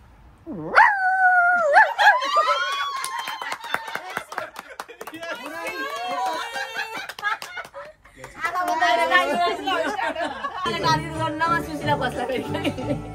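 A person imitates a dog howling, with a long rising and falling howl followed by yips and barking-like cries, loud and close, at a birthday gathering.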